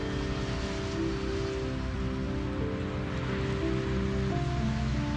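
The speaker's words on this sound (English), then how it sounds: "It's a rainy day." Steady rain falls on a rainy day in Florida, a dense, continuous hiss that holds at an even level from start to end with no voices over it.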